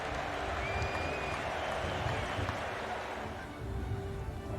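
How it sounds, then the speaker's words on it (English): Crowd noise swelling at a fantasy Quidditch match, a dense, steady roar of cheering and clapping spread across the whole stretch, fairly distant, dipping slightly near the end before picking back up. "the crowd starts to swell"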